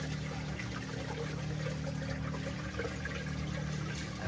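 A Reef Octopus Regal 200 internal protein skimmer runs in a 180-gallon reef tank, giving a quiet, steady bubbling water hum with a low motor drone and no voices.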